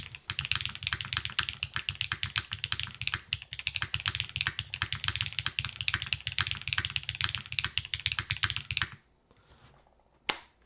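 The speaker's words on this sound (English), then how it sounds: "Very, very loud keyboard." Rapid, loud typing on an aluminum top-mount mechanical keyboard, a dense clacky run of keystrokes with sharp bottoming-out hits that stops abruptly, leaving a near-silent pause and a couple of final clicks; no one talks.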